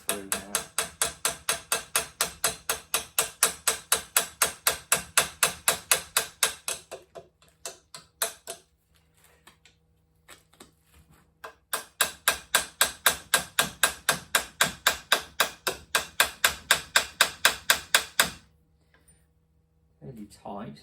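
A punch is hammered through metal with sharp, evenly spaced metallic blows, two long bursts of rapid strikes separated by a quiet gap and a brief final tap, all close and loud.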